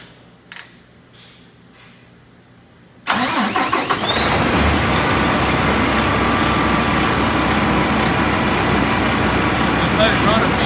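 A few quiet taps, then a Paccar truck diesel engine cranks and fires up after fuel-system priming, settling into a loud, steady idle close by.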